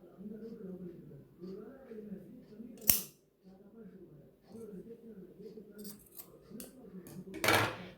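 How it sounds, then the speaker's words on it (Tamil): Scissors snip folded cloth piping into pieces for a baby top, with a few sharp metallic cuts, one near three seconds and a cluster near the end. A voice talks steadily underneath. "இந்த மாதிரி 4 பீஸாக கட் பண்ணி எடுத்துக்கலாம்."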